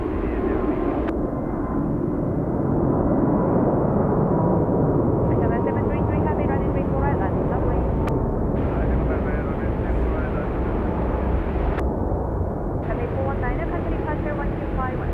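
A Cathay Pacific Airbus A321neo jet at Seoul Incheon airport gives a loud, steady broadband roar that holds throughout, with voices talking faintly underneath.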